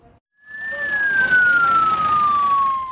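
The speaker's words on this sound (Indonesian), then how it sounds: "jasad Adel tiba dengan mobil ambulans" An ambulance siren wails in a long, slowly falling tone as the vehicle arrives at a house, loud and close over traffic rumble.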